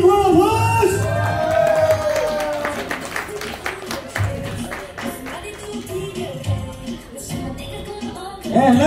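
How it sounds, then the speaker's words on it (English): Applause and cheering at a best dressed award presentation during an evening appreciation party, with clapping and whoops rising and falling over about nine seconds under music and a voice talking. "Oh, well done, big round of applause."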